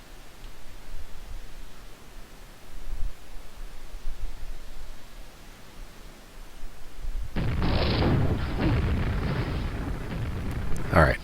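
A rocket explosion hits the player in the video game QuakeWorld, dueling on map Dm6: after quiet game ambience, a loud, rumbling blast erupts near the end and lingers as crackling noise.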